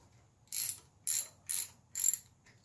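A socket wrench ratchets a spark plug out of an outboard engine in four short, crisp clicking bursts, close and fairly quiet, with brief pauses between them and no talking.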